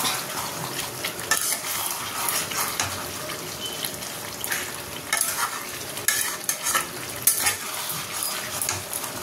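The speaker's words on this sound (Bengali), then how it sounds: "চিকেনটা ভালো করে কষিয়ে নিই।" Chicken being stir-fried and browned for a dry kosha-style curry, with steady sizzling and repeated scraping of a spatula against the pan. The clattering strokes are close and fairly loud, and no one speaks.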